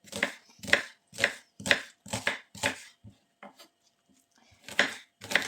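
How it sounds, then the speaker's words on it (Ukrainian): A knife chops onion on a board while pumpkin soup is prepared, with crisp, close, evenly spaced strokes in a run of six, a brief pause with lighter taps, then more chops. "Поріжемо цибульку."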